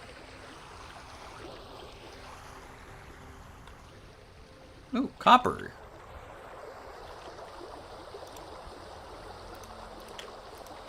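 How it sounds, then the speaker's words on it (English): Rushing river rapids in the video game Vintage Story, a steady broadband water roar throughout, with a voice briefly speaking over it midway. "Hello, rapids. You're very loud."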